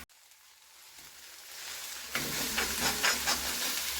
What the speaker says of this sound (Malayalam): കുറച്ച് മഞ്ഞൾപ്പൊടിയും കൂടി ഇട്ട് കൊടുക്കാം ഒരു കളറിന് ലേശം നല്ലപോലെ മിക്സ് ചെയ്യാം